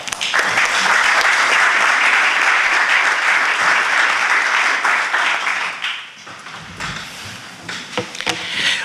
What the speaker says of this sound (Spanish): Un aplauso para César.